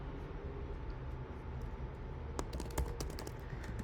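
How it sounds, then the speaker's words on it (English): Keys tapped on a computer keyboard while typing a name into a check-in registration form, a quiet run of soft clicks that turns into a denser burst of sharper taps near the end, with a low steady room hum underneath. "we can go ahead and type in, for example,"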